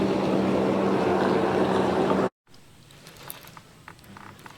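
A jet ski engine passes on the water near an anglers' catfishing boat, a loud steady motor drone that cuts off abruptly partway through, leaving faint water and background noise.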